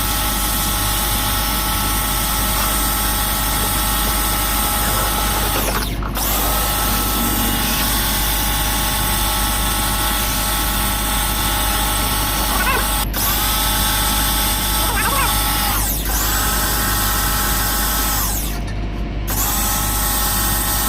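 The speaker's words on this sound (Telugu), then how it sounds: "జెట్తో వాటర్ జెట్ క్లీనింగ్ అంటారు ఇది." A high-pressure water jet cleaning parts of a front-load washing machine during servicing, a steady loud motorized spray running continuously with a few brief interruptions, no talk.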